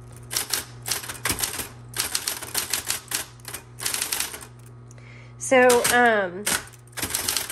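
Rapid keystrokes on a 1970s Electra 220 office typewriter, close and loud, come in quick clattering bursts with short pauses, plus a brief rising and falling tone near the end and a short spoken word.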